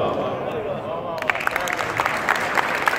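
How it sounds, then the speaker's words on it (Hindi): Audience applause at a Youm e Pakistan poetry gathering greeting a poet, a crowd clapping steadily at moderate volume, with speech audible at the start. "आपकी भरपूर तालियां जनाब अब्बास ताबिश साहब"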